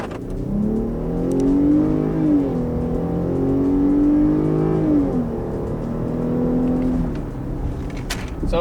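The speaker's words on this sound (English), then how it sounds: "We're just gonna switch the start and floor it." A 2021 Jeep Grand Cherokee accelerates hard from a stop, from 0 to 60, its engine roaring loudly up through rising pitch sweeps with dips at gear shifts. The roar carries through the cabin, then eases off near the end.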